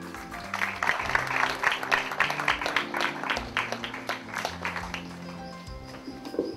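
Audience applause for an associate dean at a book presentation event: a room of people clapping steadily in a dense, moderately close patter that holds throughout and eases slightly toward the end.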